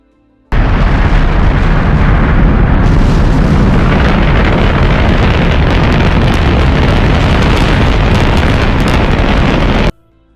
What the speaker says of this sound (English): The crew, consisting of Michael Collins as Command Module Pilot, Buzz Aldrin as Lunar Module Pilot, and Neil Armstrong as Mission Commander, launch on Cape Kennedy at 9:30 EST